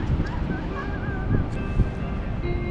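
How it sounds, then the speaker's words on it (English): Waves crash against the main harbour wall at Dunbar Harbour on a stormy evening, a steady broadband surf wash with wind noise, a heavier thud near the middle and faint tonal creaks from boats nearby. "I can hear the waves smashing the main harbour wall"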